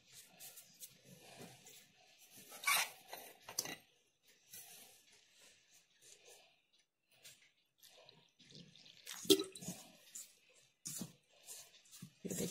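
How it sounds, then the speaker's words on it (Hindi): Wheat flour dough being kneaded by hand as water is added bit by bit, giving soft, faint, intermittent squishing and wet slapping noises with quiet gaps between them. "ये देखिए आटे को अच्छे से थोड़े थोड़े पानी के साथ सॉफ्ट डो तैयार करना है।"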